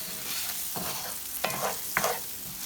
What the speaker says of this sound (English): Now, we're gonna stir it all up. The onion, the garlic.